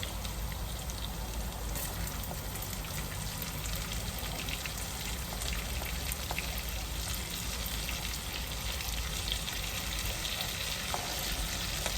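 Onions fry in a hot pan with a dense, steady crackling sizzle that runs unbroken and evenly loud throughout, close up with no talk.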